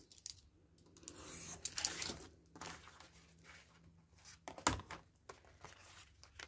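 Scissors or a blade cut through the bottom of a paper envelope, giving close rustling, crinkling snips and scrapes with one sharp thump partway through, and no talking.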